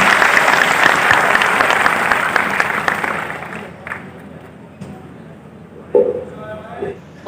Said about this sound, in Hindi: तालियों से आप उनका स्वागत करें।